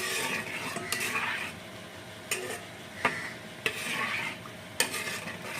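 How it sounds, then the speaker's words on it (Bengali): Gobindobhog rice and lentils for bhoger khichuri are stirred in a pot with a spoon, producing soft scraping and a few distinct clinks against the metal over a faint sizzle, quiet and close, with no voices. "আর এখন চাল আর ডালটা কিন্তু আমাদের ভালো মতো মিক্স করে নিতে লাগবে"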